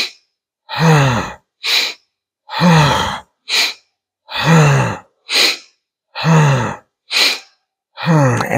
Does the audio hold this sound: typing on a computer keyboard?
no